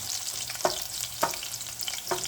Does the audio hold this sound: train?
no